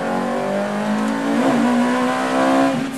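Ferrari F430 Challenge race car engine and exhaust, a loud near harmonic roar that holds steady, dips briefly and then revs up again, with a faint tire squeal and no talking.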